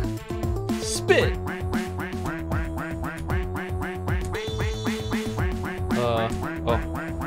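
A duck character in Friday Night Funkin quacks in a rapid rhythmic run, its nasal calls riding on top of a bright electronic backing track.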